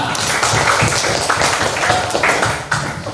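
A class of students applauding in an Indonesian classroom lesson, a loud, dense patter of many hands clapping continuously, close and steady with a slight fade at the end.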